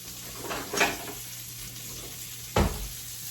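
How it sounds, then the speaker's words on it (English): Onion softens in oil in a skillet over medium-low heat with a faint, quiet sizzle, broken by two brief clanks of a utensil. "I'll start by sauteing my onion"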